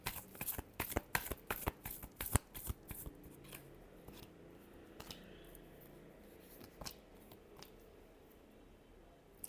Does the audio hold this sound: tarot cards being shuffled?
yes